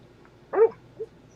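A dog whimpers in its sleep while dreaming, inside a bus used as a home. There is one short, soft, close whine and then a fainter second yelp in a quiet room.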